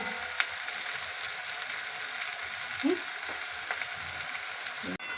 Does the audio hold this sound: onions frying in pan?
yes